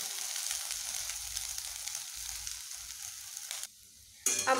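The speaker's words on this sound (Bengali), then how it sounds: "কচুগুলোকে একটু ভালো করে ভাজতে হবে।" Pieces of taro fry in hot oil with a steady, close sizzle and crackle that runs on for several seconds, cuts out briefly, then returns in a sharper burst.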